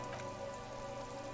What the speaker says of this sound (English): Urban coastline, rain dripping off the eternite-covered roofs.